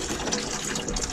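Water runs and splatters from a leaking caravan shower fitting, a continuous close trickling wash lasting about a second.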